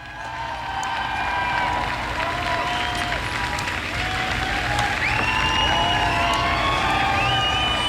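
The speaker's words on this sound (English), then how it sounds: "the cheers and applause that he is receiving as he leaves" Crowd cheers and applause for a departing president after an election concession, a sustained loud roar of clapping and shouting with high whistles and shrieks rising through it for the full eight seconds.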